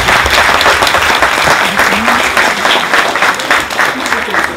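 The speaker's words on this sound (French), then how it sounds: "Levez-vous, et je demanderai à tous de les applaudir très fort." A conference audience rises and gives loud, continuous applause, a thick wash of clapping with voices mixed in.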